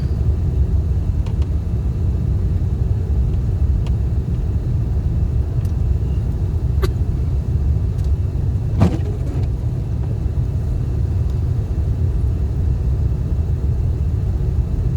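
A car drives through snowy streets in Yakima, Washington, heard from inside. A steady low engine and road rumble runs throughout, with a couple of faint clicks and no talking.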